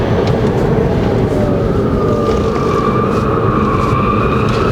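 Tires on a 2019 Chevrolet Bolt EV electric car squeal on a winding road, a thin, drawn-out, wavering whine riding over a steady, loud rumble of road and cabin noise.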